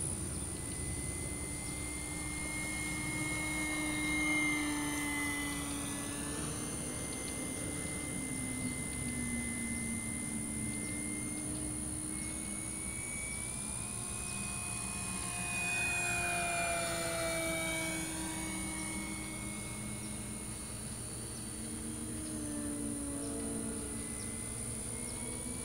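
An E-Flite Sportix radio-controlled model airplane makes trimming passes overhead, its electric motor whining steadily and rising and falling in pitch as it swoops near and away over a faint background hiss.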